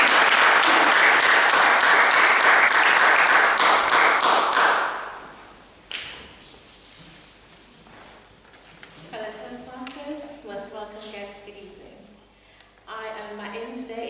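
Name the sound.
applause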